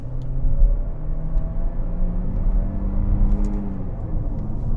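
A 2022 Changan CS35 Plus Hype with a wet 7-speed DCT accelerates hard at full power in sport mode, a steady droning engine rumble holding one gear and rising gradually, heard from inside the cabin without talk.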